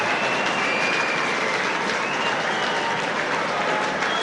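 A large stadium crowd at a Rugby League World Cup 2013 match between Fiji and Ireland applauds steadily, a broad, even roar of clapping that holds throughout with faint commentary underneath.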